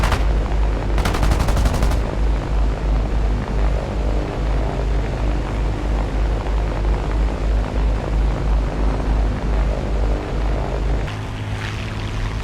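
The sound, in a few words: B-17 gunners firing at enemy fighters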